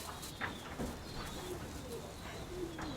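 A steel-colored white-tailed pigeon hen gives soft, low cooing notes, a few short coos spread out over faint background noise and quiet talk.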